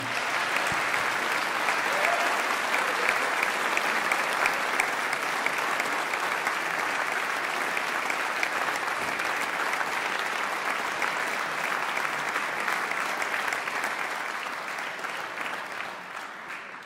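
A concert audience at a German jazz festival applauds a big band, steady dense clapping filling the hall for the whole stretch and tapering slightly at the end.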